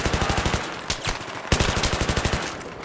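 Automatic gunfire in Battlefield 3 co-op rattles in steady rapid bursts, loud and close, with short pauses between volleys and no voices.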